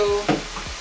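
Chicken pieces cooking in a pan for Alfredo, with a brief sizzle and a couple of scraping stirs, close and moderately loud, no voices.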